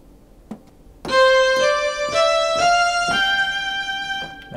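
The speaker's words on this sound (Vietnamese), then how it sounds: "Hoặc tiếng violon." A Kurtzman K250 electronic keyboard, set to its violin voice, plays a few sustained, bowed-like notes that glide from one into the next. The passage is clear and close, with no talking over it.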